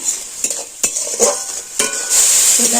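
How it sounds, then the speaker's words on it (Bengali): Spices with cumin powder, salt and sugar stir-fried in a pan for an egg, masoor dal and pumpkin dish: steady close sizzle with several sharp scrapes and clinks of a spoon against the metal, no talking. "এক চামচ জিরে গুঁড়ো এক চামচ লবণ দিয়ে দিচ্ছি আর এক চামচ দিয়ে দিচ্ছি চিনি এটাকে আমি ভালোভাবে কষিয়ে নেবো"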